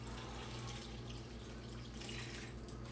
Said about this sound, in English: Adding about a cup of water to it.